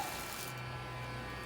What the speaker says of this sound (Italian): Il rumore che sentite in sottofondo è un phon che mi sta scaldando gli elettrodi